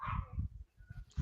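Indoor dog letting out a quick run of short, close barks in a choppy rhythm over about a second, with no talk over it.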